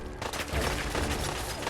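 Gunfire in the video game Fallout 4, a dense rapid burst of shots blending into a continuous crackling roar, loud and close.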